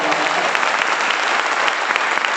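An audience at a business meeting claps loudly and steadily, a dense, continuous burst of applause close by that fills the whole moment without pause.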